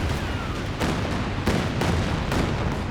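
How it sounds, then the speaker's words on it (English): Calliope rocket artillery barrage in a strategy game, a rapid salvo of loud thudding launches and blasts repeating every half second or so over a constant roar of battle. "Oh, another Calliope barrage."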